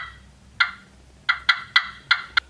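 Short, sharp clucks worked from a slate turkey call: a single pop, a pause, then five quick pops in an uneven run, each crisp and fairly loud, with no talking.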